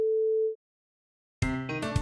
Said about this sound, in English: I can hear the simple sine wave produced by toggling the switch.